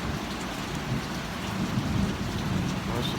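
Steady rain during a thunderstorm seen from a porch, with low rumbling thunder rolling underneath the dense, even hiss of falling water.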